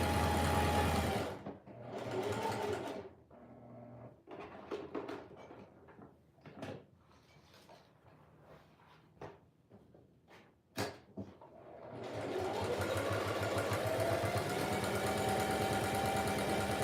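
A sewing machine stitches fabric for a journal cover, running in steady whirring bursts at the start and again for several seconds at the end, with quieter handling and fabric shuffling in between.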